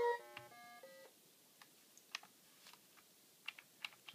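Computer keyboard keys are tapped with scattered, quiet clicks, several closely spaced and others spread out. The clicks sit over a faint background, and a short electronic beeping melody plays at the start.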